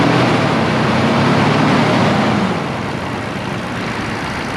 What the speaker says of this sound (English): Just a great motor. Rev it.